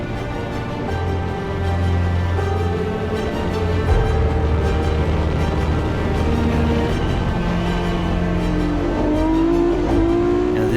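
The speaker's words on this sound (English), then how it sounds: "Let's go on board then, starting with a view from the cockpit of the Matra MS650 of John of B." Onboard on a race track in a Matra MS650 race car, the engine roars loudly and continuously close up, with pitch rising and falling through gear changes and acceleration, wind and road noise underneath.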